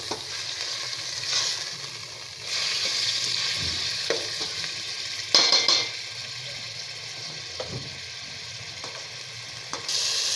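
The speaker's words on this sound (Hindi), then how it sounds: "अब मैं इसको थोड़ा सा चलाऊंगी इसको मैं इसमें भूनूंगी थोड़ा ताकि इसका कलर थोड़ा वाइट वाइट सा हो जाए।" Minced meat frying in a pan for qeema aloo while a spoon stirs it, giving a steady close sizzle broken by several scraping stirs and a few light clinks against the pan, with no talking.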